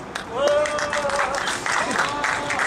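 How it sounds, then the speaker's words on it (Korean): Audience at an outdoor candlelight rally clapping, a steady wash of applause mixed with scattered voices and shouts, moderately loud and continuous. "다시 한번 크게 박수 주십시오."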